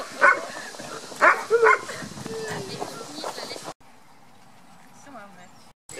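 Beauceron dogs at an outdoor training session bark in a few sharp bursts with some whimpering, close by, amid background talk, before the sound drops to quiet.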